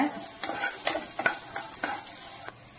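Ginger and onion being stirred into a rava idli batter, giving a series of soft, wet scraping strokes roughly every half second, close up with no talking.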